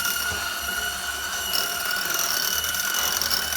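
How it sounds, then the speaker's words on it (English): Steady whirring hum of a handheld electric mixer running on low, blending milk into a mash for a French onion soup pork loin dish, continuous and close with a slight shift in tone partway through. "Again, I like to use it with the handheld just because it makes them a little bit smoother."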